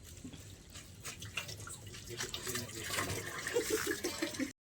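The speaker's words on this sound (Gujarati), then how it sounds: "ગાઈસ હાલ સ્ટાઇલો ઉપર પાણી છોટવાનું કામ ચાલે છે." Water sprinkled over newly laid floor tiles makes steady splashing and spattering that builds toward the end before cutting off abruptly.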